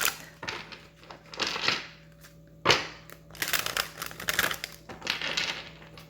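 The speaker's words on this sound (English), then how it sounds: "Let me get another good shuffle." Tarot cards are shuffled by hand in several bursts of crisp riffling and flicking, close and moderately loud, with brief gaps between handfuls and no talking.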